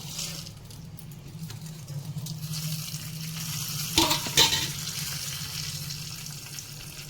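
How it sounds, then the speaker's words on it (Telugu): Mustard seeds, urad dal, cumin, fenugreek and dried red chillies sizzle in hot oil for a tangy tamarind stew tempering, a steady low frying hiss with a couple of sharp popping crackles midway. "ఇప్పుడు నేను పులుసు పోపు పెడుతున్నానండి. ఆవాలు, మినప్పప్పు, జీలకర్ర, మెంతులు, ఎండుమిరపకాయలు."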